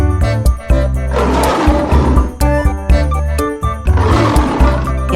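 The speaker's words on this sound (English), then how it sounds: "L for lion." A lion roar sound effect plays within a children's alphabet song. Two loud, rough roaring bursts rise over the bright backing music and jingles.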